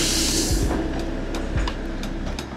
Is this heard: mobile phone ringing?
no